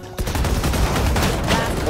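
Shotgun fire in Valorant, several rapid heavy blasts amid dense in-game gunfire and action noise, loud and close, with someone talking over it.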